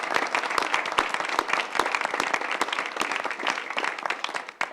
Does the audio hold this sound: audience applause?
yes